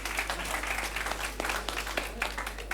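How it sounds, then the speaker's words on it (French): Applause breaks out for a high-school quiz show contestant, a brief burst of many hands clapping in a hall, moderately loud with a low hum underneath and sharper claps standing out. "Applaudissez pour lui, s'il vous plaît"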